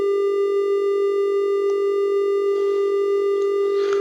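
A steady, bright synthesized tone holding one pitch with a buzzy edge, loud and continuous throughout, with faint background noise toward the end.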